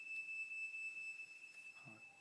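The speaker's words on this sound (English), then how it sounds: "That was the fire alarm." An indoor fire alarm, set off by a gas kettle left on too long, holds a steady, faint, high-pitched electronic tone that fades slightly near the end, with no talking.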